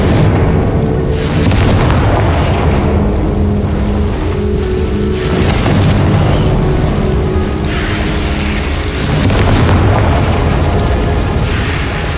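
Booming spell blasts from the Confringo fire spell in the video game Hogwarts Legacy, loud and dense, with repeated rumbling detonations and crackling debris over about twelve seconds, no voices.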